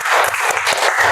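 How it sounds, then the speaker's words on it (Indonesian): A class of school students clapping together in a classroom, a brief burst of loud, dense applause with overlapping claps. "Oke, tepuk tangan lagi untuk kalian."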